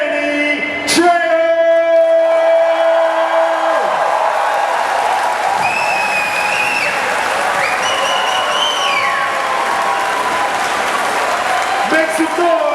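A convention crowd at Dutch Comic Con 2023 in Utrecht applauds and cheers a guest, loud sustained clapping and whoops with a voice calling out over it at the start.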